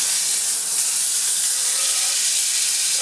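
Brined boneless pork loin chops searing in oil in a pan, a steady loud hiss and sizzle without pauses.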